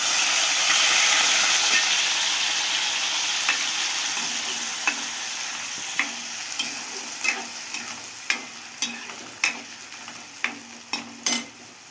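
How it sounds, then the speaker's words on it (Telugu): Ground spice paste for an okra masala curry frying in hot oil, a steady close sizzle that slowly fades while sharp scraping stir strokes grow louder and more frequent toward the end. "నూనె వేడెక్కేసిందండి మిక్సీ పట్టేసుకున్నది వేసేసుకుంటా"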